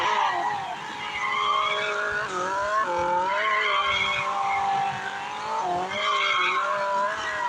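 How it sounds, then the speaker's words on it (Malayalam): Drifting car in a racing video game screeches its tires in long, wavering skids over a revving engine, loud and close, with pitch swooping up and down through several slides. "ഡ്രിഫ്റ്റിങ്സ് ഭയങ്കര അടിപൊളി കേട്ടോ."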